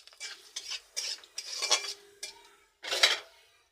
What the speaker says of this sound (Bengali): এবার দুটো শুকনো লঙ্কা ভেজে নেব।